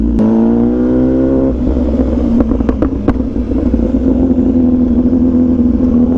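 Italian MV motorcycle engine running loud and close, a steady exhaust drone with a rising rev early on and several sharp exhaust pops clustered midway.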